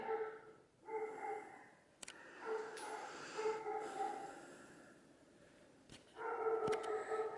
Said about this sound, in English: The only downside is all the barking dogs outside.